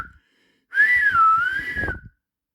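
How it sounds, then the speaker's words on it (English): A single bright steam locomotive whistle rises and dips in pitch for about a second and a half, clear and close, with brief faint knocks beneath it. "Whistled Thomas in alarm."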